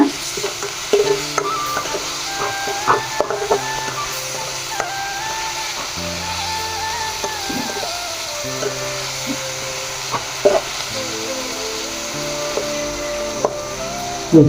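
Bread vaggarane ingredients frying in a pan, a steady sizzle with repeated stirring and spoon scrapes against the metal, close and fairly loud, with no talking.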